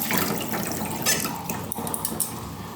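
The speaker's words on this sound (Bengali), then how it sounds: "প্রথমে বাঁধাকপিটাকে ভালো করে ধুয়ে নেব।" Tap water splashes and drips onto a large cabbage being washed in a sink, a continuous close spattering with a few brighter splashes, no voices.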